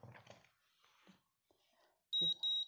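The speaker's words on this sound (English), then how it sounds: "You'll hear it beep." Quiet talk fades out, then two short, bright electronic beeps sound close by as a stamp printer powers on.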